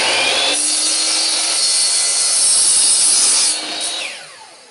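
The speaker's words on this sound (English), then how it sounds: "a brand new carbide blade, cuts through this stuff pretty quickly, pretty easily" A power saw fitted with a brand new carbide blade cuts through metal stock, a loud shrill whine and grinding rasp starting abruptly, holding steady for about three seconds, then dropping away as the blade spins down.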